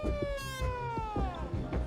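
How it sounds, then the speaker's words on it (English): Activists sound a siren at a gathering marking the Fundão Dam collapse in Brazil, a wailing tone that falls in pitch and holds steady, loud and near, over faint background crowd noise. "Activists sound a siren to remind everyone that lives could have been saved"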